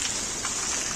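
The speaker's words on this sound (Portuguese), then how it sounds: "E ainda chovendo muito, graças a Deus." Heavy nighttime rain pours down in Crateús, Brazil, a dense, steady hiss of water hitting surfaces with no pauses or voices.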